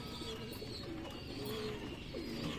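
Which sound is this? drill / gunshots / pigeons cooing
pigeons cooing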